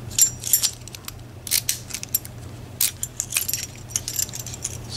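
A small bunch of three keys for a six-pin lock jangles close up in quick metallic clinks and rattles, bursting irregularly over a quiet background.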